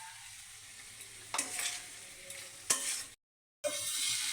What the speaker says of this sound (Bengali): ডাল সহ মাছের মাথা কষিয়ে নেব